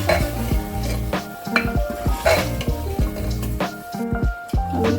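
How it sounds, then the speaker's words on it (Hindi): Chicken pieces stirred into sizzling masala for a Punjabi dhaba-style chicken curry, with a steady close fry hiss and repeated scraping, clattering spoon-and-pan strokes in an uneven rhythm. "अब हम इसमें ये चिकन के पीस डालेंगे। धीरे से इसको मिक्स कर देंगे।"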